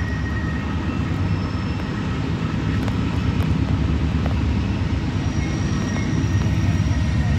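A northbound CSX freight train working hard as it passes on a cold day, a loud, steady, low engine rumble that holds throughout with no voices.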